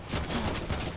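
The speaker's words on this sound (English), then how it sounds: "Mancake, stop shooting at me!" Rapid burst of gunfire in a video game, several quick cracking shots packed together in about a second, loud and close with no voices.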